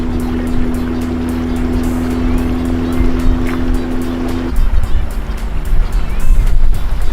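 The outboard engine of a Łowca Deya 360 fishing boat runs steadily and loudly with a constant drone, then shifts pitch partway through amid splashing water and wind.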